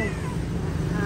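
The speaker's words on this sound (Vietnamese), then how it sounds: "Đây là những bé mèo ở đây nè mấy anh chị ơi." Cats meowing faintly in a shelter, brief high cries under a voice speaking nearby.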